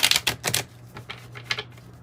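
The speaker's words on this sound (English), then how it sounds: "Let's pull one from the Kipper deck" Cards from a Kipper oracle deck being shuffled and drawn, a run of quick crisp riffling flutters followed by a few softer separate slaps, close up and alone.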